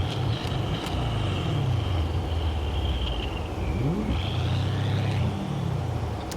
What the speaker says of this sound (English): The sound of a turbo spooling down, huh? It sounds like a big truck driving through.